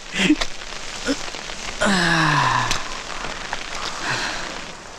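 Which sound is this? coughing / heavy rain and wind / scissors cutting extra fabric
heavy rain and wind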